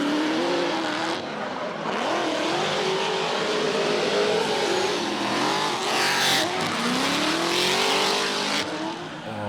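Drift cars battle at Sydney Motorsport Park, engines screaming and revving hard while tires squeal and skid continuously, a loud dense wash of racing noise with rising and falling pitch sweeps as cars pass.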